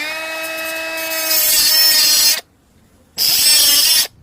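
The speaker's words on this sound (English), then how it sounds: "what I want to do is just go ahead and trim a little, kind of like a slot here, so that we can place that nut behind it." A power tool trims a slot into a plastic dash panel of a 5th-generation Toyota 4Runner, with a loud, close, high whine in two sustained passes separated by a brief pause.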